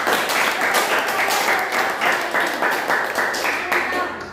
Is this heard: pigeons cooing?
no